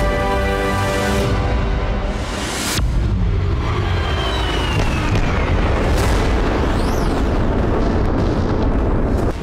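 Heavy explosions from a Russian FAB-500 bomb strike in Popovka, Sumy: a loud boom bursts out and then gives way to a long, rumbling roar, with another blast hitting a few seconds later.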